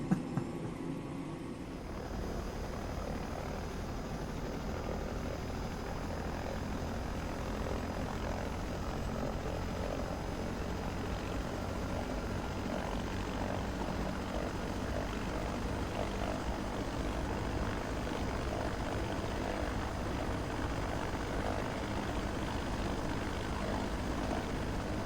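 OH-6A helicopter in Microsoft Flight Simulator 2024, its engine and rotor making a steady, loud, continuous drone with a low pulsing beat that holds throughout, with no voices.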